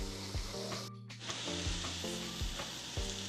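Steak sizzling and frying on a hot griddle over a camping stove, a steady bright crackle with low rhythmic thumps and a brief dip near the one-second mark, close and continuous with no talking.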